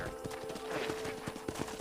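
Faint, steady clip-clop of horse hooves at a walking rhythm in the video game Red Dead Redemption, set against a soft continuous background hum.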